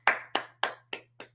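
Five sharp hand claps land in a quick, even rhythm, close and crisp, each one decaying fast into silence, with the last two slightly softer.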